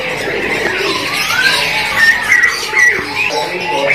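Adult chestnut-capped thrush (anis kembang), a songbird offered for sale at a bird kiosk, gives repeated thin squeaky calls and whistles close by over a busy market background, with no talk.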